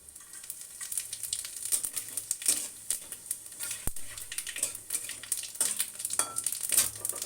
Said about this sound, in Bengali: এবার আমি যে সাদা জিরেটা সেটা ফোড়ন দেব